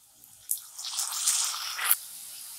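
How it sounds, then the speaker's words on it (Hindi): Two medium tomatoes, chopped small, tipped into a hot pan for egg katli, a brief wet splat followed by a soft sizzle and light clatter, close and fairly quiet. "अब यहाँ पे हमने 2 मीडियम साइज टमाटर को छोटे छोटे पीसेस में काट लिया है, उसे भी डाल देंगे।"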